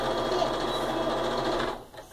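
A sewing machine running steadily as it stitches small ironed triangle pieces onto a quilt top, a fast continuous whirring hum that stops abruptly near the end.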